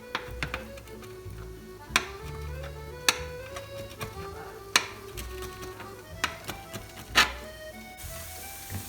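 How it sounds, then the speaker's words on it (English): A knife chops diced pancetta cubes into smaller pieces on a cutting board, giving several sharp, irregular chops over a soft tonal background. "we're just gonna chop these up into smaller pieces"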